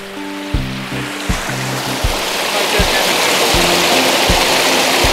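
A steady broadband rush of falling water from a waterfall in an Indiana state park fills the background, with a voice speaking over it.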